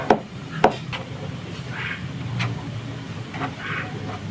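A knife slices sausage on a cutting board in a home kitchen, giving a few sharp, close taps spaced irregularly, with softer scraping sounds between them and no talking.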